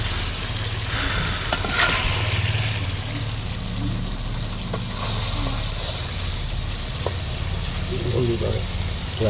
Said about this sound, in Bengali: মোটামুটি 1 ঘন্টার মতো কষাতে হবে